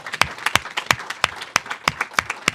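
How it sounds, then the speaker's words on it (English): Sparse audience applause at a school performance panel event, a small group clapping with distinct individual claps in an uneven rhythm, fairly close and alone without talk. "Bold applause."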